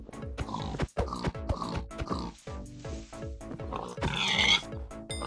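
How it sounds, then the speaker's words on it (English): Pigs in Minecraft oinking and grunting repeatedly, close and clear, a steady string of short snorts one after another with no talk. "And that way we can use an axe to kill these pigs."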